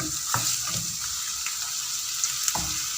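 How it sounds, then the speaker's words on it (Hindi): Chopped onions sizzle steadily in hot oil in a pan while fish curry is being cooked, a dense continuous frying hiss with occasional soft clicks of stirring, close and with no talk. "इसको 2 मिनट तक फ्राई करना है।"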